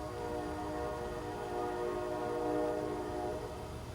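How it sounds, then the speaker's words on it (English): A distant train rolling past somewhere about a mile off at night, a faint steady rumble with a sustained horn-like tonal drone, far away and alone. "Hear the train?"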